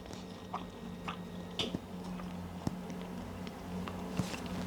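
Close, quiet chewing and biting of a lamb and potato curry, with soft irregular crunches and mouth clicks over a low background hum.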